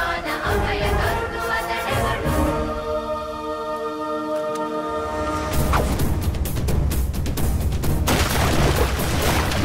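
Gun fired with a lever pulled back, heavy booming blasts and crashing bursts piling up loudly, preceded by a droning tonal sound and followed by dense repeated impacts.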